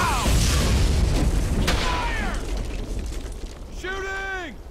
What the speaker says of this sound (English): Deploy the bazooka there.